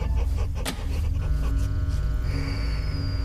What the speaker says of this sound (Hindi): किसे भौंक रहा है?